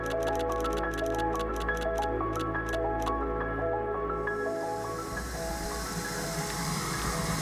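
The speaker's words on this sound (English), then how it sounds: "just filling up some water." Water running into a container, a steady trickling, bubbling fill heard up close. A rapid clicking runs through the first few seconds before the stream carries on alone, with no talk.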